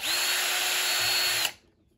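A power drill whines loud and steady close by while tightening rock sliders on a Proline FJ40 Land Cruiser, holding one even pitch for about a second and a half before cutting off abruptly.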